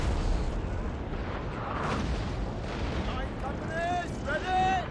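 Cannon batteries firing during the Waterloo battle in Napoleon: Total War, heard as a continuous rumbling barrage of deep booms with a voice rising over it near the end.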